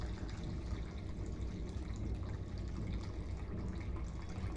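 Water left from cooking rice is poured into a container, a faint, continuous liquid trickle and splash at low level throughout, with no voices.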